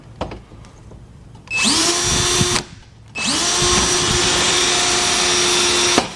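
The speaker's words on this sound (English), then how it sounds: "Let's drill the shorter one." A power drill with a step bit whines up to speed twice while drilling metal, a short burst then a longer sustained run, loud and close with a rising motor pitch.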